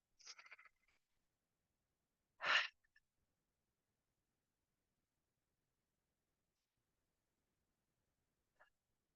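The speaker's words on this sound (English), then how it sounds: "maybe taking some big open mouth exhales to get there" Big open-mouth exhales during a yoga Ujjayi breathing practice: a short breathy puff, then one strong sighing exhale a couple of seconds later, and a faint breath near the end, all close and separated by silence.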